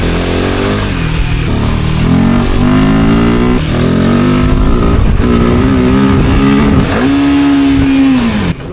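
Trail motorcycle engine revving while riding a muddy, slippery forest trail, a loud close buzzing drone with pitch rising and dipping repeatedly as the throttle is worked.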